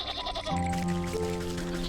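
A sheep in the video game Wytchwood bleats loudly and steadily, a long wavering cry over a busy, tonal background.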